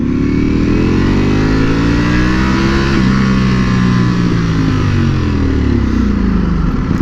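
Motorcycle ridden along a beach, its engine droning loud and steady with rising and falling pitch as the throttle shifts, plus continuous wind rush and no talking.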